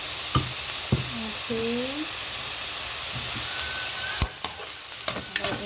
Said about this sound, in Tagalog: halo-haloin po natin ito hanggang maluto po yung hotdog